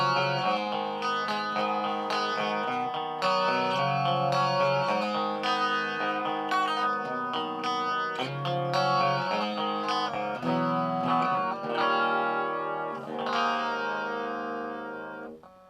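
A PT2399 echo IC prototype puts a sustained run of melodic guitar-like notes through a swirling, flange-like modulated echo, with bright, slightly distorted repeats smearing together before fading out at the end.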